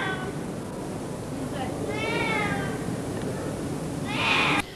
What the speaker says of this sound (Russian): вцепившись в сухую ветку огромного дерева, орал кот Снежок страшным нечеловеческим голосом